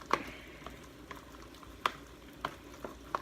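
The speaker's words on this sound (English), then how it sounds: "And you're really going to mix that all up." A spoon stirs a splash of half and half into a lasagna filling mixture, making soft scraping clicks at irregular intervals, close and fairly quiet.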